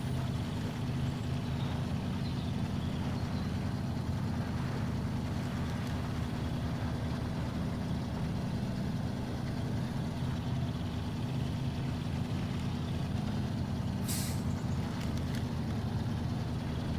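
A Fleet Star truck in the game SnowRunner runs its engine under load with a steady, heavy low rumble. It is loud and continuous throughout, with no voices.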